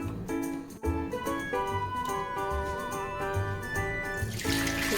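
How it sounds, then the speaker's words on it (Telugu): Water splashes and pours steadily as homemade ghee butter is washed by hand in a kitchen vessel, a close, continuous running-water sound with small sloshes. "ఈ వాటర్ అన్నీ పడేసి ఇంకోసారి వాటర్ వేసుకొని నీట్గా కడుక్కుందామండి."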